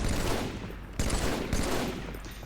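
Automatic assault rifle fire from the Halo multiplayer game Crazy King on the map Recharge rattles in loud, dense bursts, breaking off sharply near one second and again near one and a half seconds before carrying on.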